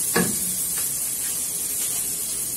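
Mortadella browning in a pan, giving a steady close hiss and sizzle with a few faint scraping touches near the start.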